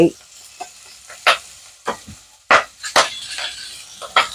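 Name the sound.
dried scallop and ginger sizzling in oil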